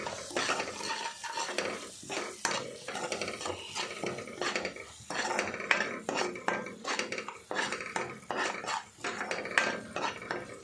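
Ground spices and garam masala are stirred into mill maker paneer rice in a pot, with repeated spoon scrapes and clinks against the metal and a faint sizzle underneath, close and uneven in rhythm.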